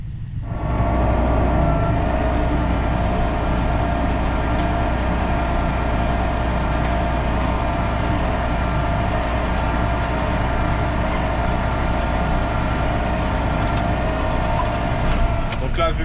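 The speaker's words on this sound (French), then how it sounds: "on voit que le tracteur, il se promène. Il est même pas à 1200 tours" A tractor rolls slowly across a field at low revs, a loud, continuous diesel drone and rumble holding steady throughout, with a faint voice over it.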